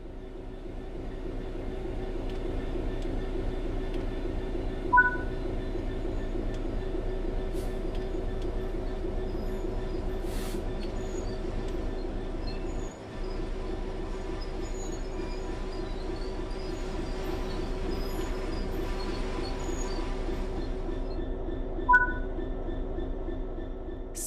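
A train in Train Sim World 3 slows to a stop, its low rumbling rail noise rolling on steadily with faint wheel squeals and a couple of brief hissing bursts, all fairly quiet and continuous with no talk.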